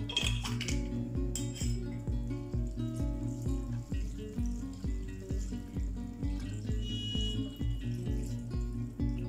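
Hot water pours steadily over shirataki noodles in a kitchen sink setting, a continuous splashing stream with light clinks of dishes and utensils, close and fairly loud throughout.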